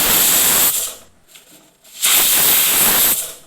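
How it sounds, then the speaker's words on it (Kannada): A pressure cooker of vegetable pulao whistles twice on the stove, two loud, sustained steam hisses separated by a brief quieter gap, close and dominant with no talking. "2 ವಿಷಲ್ ಆಗಿದೆ ನೋಡಿ"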